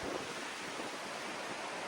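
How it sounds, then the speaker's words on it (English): Steady broadband roar of strong wind buffeting the microphone, continuous and loud throughout with no voices. "That's too windy."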